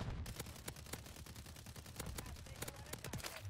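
Rapid automatic gunfire from dual-wielded Akimbo Stinger weapons in Modern Warfare 3, a dense continuous burst of shots with faint voice underneath.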